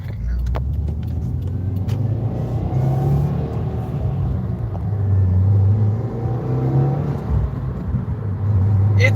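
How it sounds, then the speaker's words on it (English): Engine of a 2020 Subaru WRX revving up and then dropping back slowly with rev hang, a steady close rumble heard from inside the car, with no talking. "Let's analyze the rev hang now."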